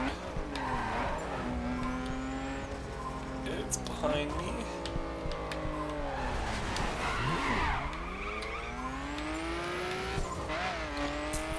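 Cars racing in The Crew video game, engines revving and shifting pitch with repeated tire squeals and skids, loud and continuous, with someone talking over the driving.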